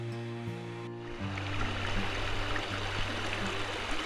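A freshwater waterfall in escarpment ranges flows with a steady, broad rushing wash. Sustained tonal music plays over it and fades after the first second, leaving the water clearly audible.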